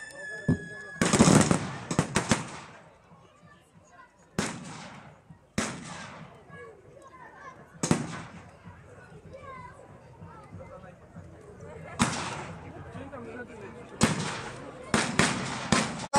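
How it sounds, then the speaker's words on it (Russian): Loud booming blasts from World War I artillery at a battle reenactment of Bulgarian guns shelling French and Scottish positions, arriving as repeated sharp broadband bursts every couple of seconds with crackling echoes and a distant battlefield murmur between shots. "Тем временем болгарская артиллерия обстреливает позиции французов и шотландцев."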